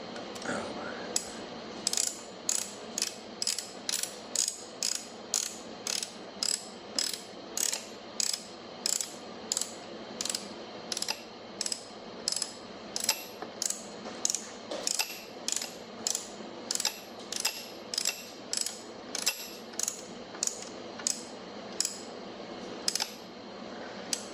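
A ratcheting torque wrench tightening bolts to 35 foot-pounds during hydraulics assembly on an Oliver Super 55 tractor, heard as a long run of evenly spaced, crisp metallic clicks, close and clear, with no talking.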